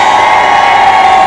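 A large crowd at a Busan election campaign rally roars in a sustained, loud collective cheer of manse, the massed voices merging into a continuous wall of shouting.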